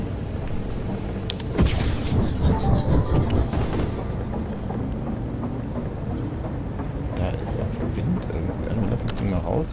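The land vehicle in the Far: Lone Sails video game driving along: a steady low mechanical rumble with occasional clanks and knocks, continuous throughout.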